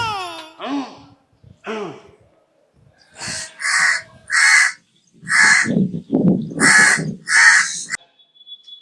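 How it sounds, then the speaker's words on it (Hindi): A crow cawing repeatedly outdoors, a series of loud, harsh, evenly spaced caws in bursts, with a voice speaking low between and under some of the calls. "इतनी देर से कौवा काऊ काऊ कर रहा।"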